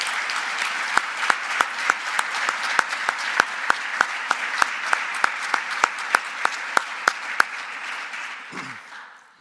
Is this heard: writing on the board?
no